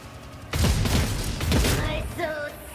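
Stun grenades going off in the Warhammer 40,000 game Rogue Trader: two heavy, booming blasts about a second apart, loud and close, followed by a lingering rumble and faint tonal sounds.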